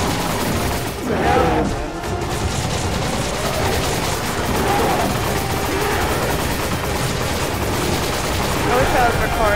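Gunfire in the video game Resident Evil 5 fills the mix with dense, repeated shots and bursts that never let up, loud and continuous with a few heavier blasts standing out.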